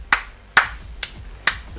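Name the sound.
clapping hands, applause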